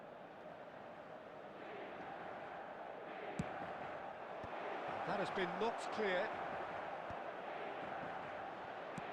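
Stadium crowd roar from an eFootball video game match, a steady broad wash of noise that swells louder around a corner kick, with a commentator talking over it and a few brief whistles or shouts rising out of the din.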